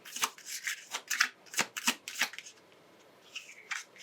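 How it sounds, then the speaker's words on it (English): Tarot cards shuffled by hand in a steady run of crisp riffles and slaps, close and clear, pausing briefly before a few more scattered flicks near the end. "that was flipped over when I was shuffling"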